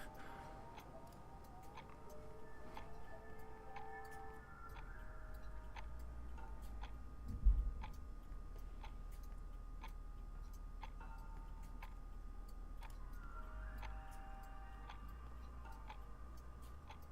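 Several clocks tick steadily and fairly faintly in the video game Deponia Doomsday, a regular mechanical tick-tock running throughout over a low background hum, with no talking.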